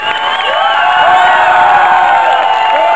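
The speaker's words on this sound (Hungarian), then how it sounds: "Csak ekkora tapsot érdemel ez a zenekar!" A concert crowd in Ajka cheers, whoops and applauds loudly for a band after a song, a dense, sustained roar of many voices and hands, with shouts rising above it.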